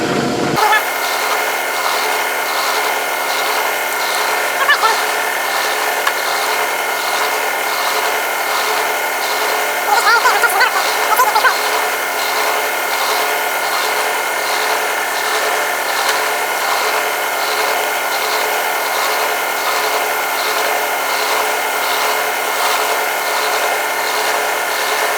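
A Grizzly mill drill spinning above 1,000 RPM while cutting, a loud steady whine that holds evenly at close range, with brief grinding bursts around the middle.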